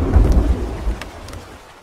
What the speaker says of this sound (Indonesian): turun hujan yang sangat lebat disertai dengan kilat dan petir seperti tadi